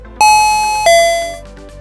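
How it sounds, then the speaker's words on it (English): A loud two-tone doorbell chime, a bright ding then a lower dong, ringing out and slowly fading. "Set doorbell volume."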